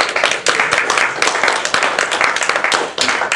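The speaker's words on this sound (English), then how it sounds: "Let's give him one more rousing round of applause" An audience claps after a talk on software quality, with close, fairly loud hand claps beating in a dense uneven rhythm across a few seconds.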